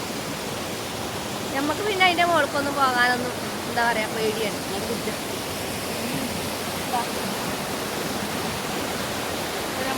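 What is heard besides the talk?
river water rushing over rocks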